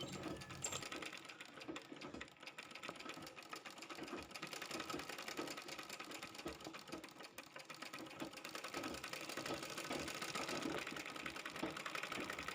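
A tailoring sewing machine stitches continuously in a quiet, steady mechanical whir with a rapid needle rhythm, running alone without pauses.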